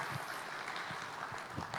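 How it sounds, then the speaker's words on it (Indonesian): Audience at an Indonesian event applauding: a dense, even patter of many hands clapping at once, fairly faint and steady for a couple of seconds with no talk over it. "Tepuk tangan untuk Pak Soho"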